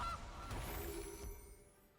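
A goose honk sound effect from the Sassy Goose card in the MTG Arena digital card game, a short honk at the start over a busy layer of game sound that tails off.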